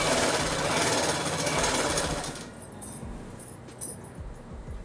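A sewing machine runs fast and loud, stitching a half-inch folded hem on salwar fabric, then stops, leaving faint clicks and small handling sounds.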